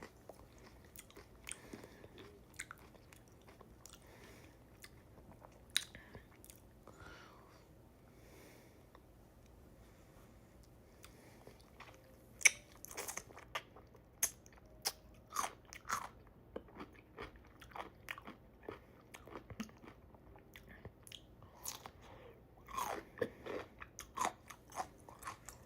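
Crunchy pickles dipped in ranch dressing being bitten and chewed close up, quiet intermittent crisp crunches that grow more frequent in the second half, with no talking.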